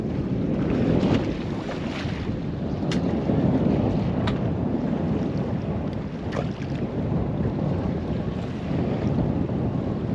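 Wind roars steadily across a fishing boat at sea, a dense low buffeting rush on the microphone with faint water sounds beneath, and no talk.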